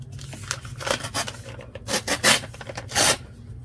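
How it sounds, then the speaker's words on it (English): Scissors or a trimmer cut paper for a handmade junk journal, with short irregular rasping and scraping strokes that come close up and fairly loud, without any talk. "I'm gonna have to trim that just a little"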